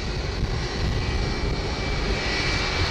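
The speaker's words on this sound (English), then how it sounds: "A National Airways A330 jet was about to take off, but as it was taxiing down the runway," A National Airways Airbus A330 jet taxis along a runway, and its engines give a steady, loud, broad roar with a thin whine on top. No distinct impact from the wing striking a pole stands out.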